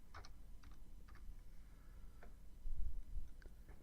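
Sparse, faint keystrokes as a password is typed on a computer keyboard, a handful of isolated clicks spread over a few seconds against a quiet room hum, with no talking.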